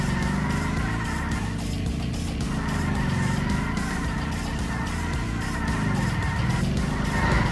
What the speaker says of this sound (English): Get a solid drift going.